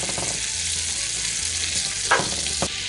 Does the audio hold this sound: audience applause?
no